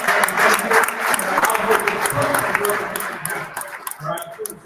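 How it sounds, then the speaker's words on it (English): An audience at a community kickoff event claps and cheers, a lively burst of applause that gradually thins out as a speaker's voice comes through over it. "I want y'all to give a big hand for every organization for their dreams"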